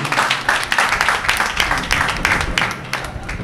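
An audience at a lycée school government official ceremony claps in a dense, lively round of applause, many hands close and continuous, without speech over it.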